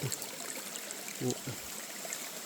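A forest stream flows with a soft, steady trickle nearby while a person speaks briefly over it.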